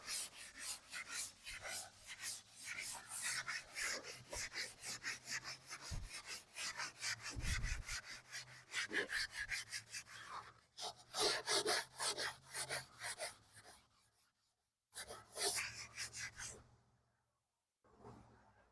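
Steady rasping rub of surface rust being scrubbed off the crusty body of a 1962 Chevrolet Bel Air wagon, a long rhythmic run of strokes that pauses briefly, then resumes in two shorter bursts near the end.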